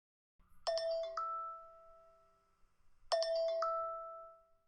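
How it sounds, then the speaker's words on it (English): A melodic iPhone ringtone plays two identical chiming phrases a few seconds apart, each with ringing tones that sustain and fade, clear and alone. "We can even add full ringtones here."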